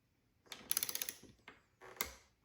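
Near and quiet, a torque wrench gives a burst of rapid ratcheting clicks and then a couple of sharper single clicks as it reaches its set torque of 5 Nm on a crossbar fitting.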